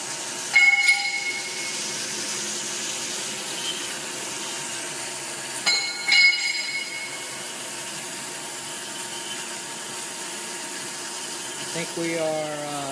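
A plate-cutting machine runs with coolant as it works through metal plates, giving a steady, fairly quiet mechanical drone with a few sharp clanks and brief louder surges along the way.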